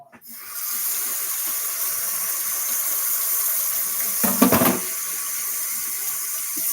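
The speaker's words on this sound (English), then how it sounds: "Just rinse my hands because it's touching the potatoes" Tap water runs steadily into a kitchen sink as hands are rinsed after handling potatoes, a close continuous hiss with a brief louder splashing burst midway, no talking.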